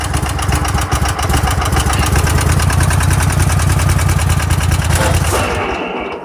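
A Craftsman lawn tractor engine runs loud and close at a steady idle-to-mid throttle, its rough, rapid firing pulses continuing unbroken before the sound begins to fade away at the end.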